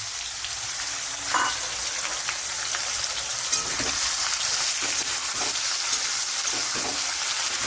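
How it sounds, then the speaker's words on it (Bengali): Chopped onions fry in oil, making a steady sizzling hiss with occasional stirring scrapes and light pops, close and continuous. "এবার এর মধ্যে আমি কেটে রাখা পেঁয়াজগুলোকে দিয়ে দিলাম"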